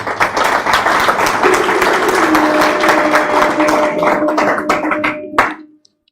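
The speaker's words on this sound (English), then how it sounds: "A round warm of applause as she comes." Audience applause at a medical school white coat ceremony, a loud, dense wash of clapping hands that holds steady for about five seconds, then thins into a few last claps and stops.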